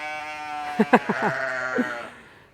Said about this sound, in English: It's a symphony, the goat symphony.